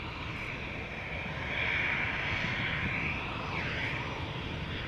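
Air Baltic Airbus A320 jet airliner in Estonian flag livery at Amsterdam Schiphol Airport, a steady broad engine roar held at constant loudness, swelling slightly in the middle, heard from a moderate distance with no talk.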